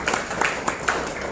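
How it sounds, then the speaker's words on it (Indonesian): Applause for a presenter at a school teachers' workshop in Indonesia, a short burst of scattered hand claps from a small group, fairly light and somewhat distant. "tepuk tangan untuk Pak Didik"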